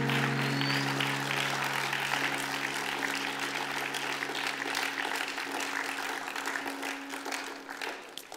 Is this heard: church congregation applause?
yes